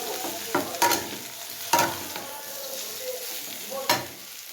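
Potato and cauliflower, fried earlier, being stir-fried with mixed vegetables in a pan, giving a steady low sizzle broken by several sharp scraping clacks of a spoon against the pan at irregular intervals.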